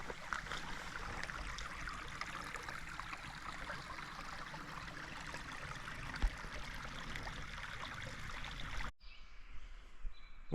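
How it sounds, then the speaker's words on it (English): A small creek flows across the Crib Gap hiking trail, a soft steady trickle and babble of shallow water heard close up, continuous for several seconds before it drops away abruptly near the end. "here's just a little creek crossing"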